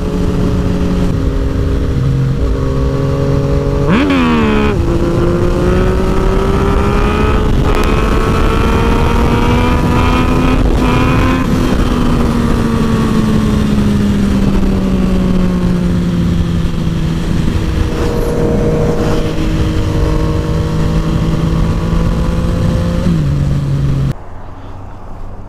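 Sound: Yamaha FZ09/MT09 motorcycle engine while riding

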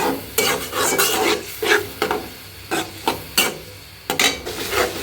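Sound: sautéing dried fish (shutki) in a pot

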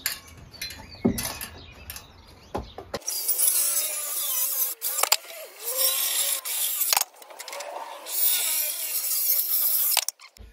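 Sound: power tool cutting wood

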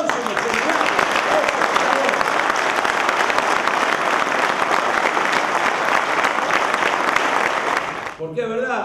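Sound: audience applause at union assembly

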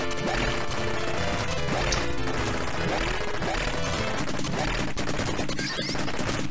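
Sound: gunfire in the video game Senjō no Ōkami

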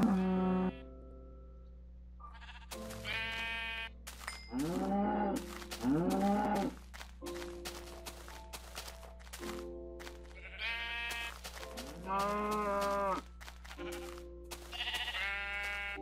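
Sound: cattle mooing and sheep bleating in the video game NPCIty

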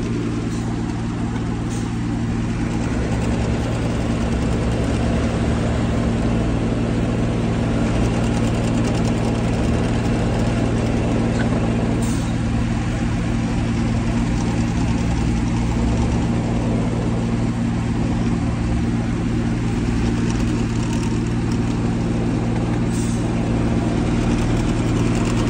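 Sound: tractor engine running

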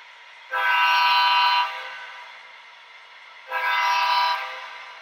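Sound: model train horn

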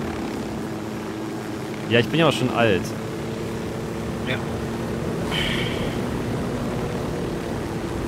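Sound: airplane propeller engine in the video game Ghost Recon Wildlands

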